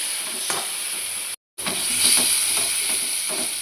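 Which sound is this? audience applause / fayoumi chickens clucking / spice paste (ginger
spice paste (ginger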